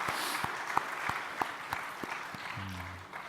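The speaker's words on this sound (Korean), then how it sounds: "사모님까지 함께 우리 뜨겁게 박수하겠습니다." Church congregation clapping during a Sunday service, a steady, fairly soft patter of many hands with occasional sharper claps standing out, fading toward the end.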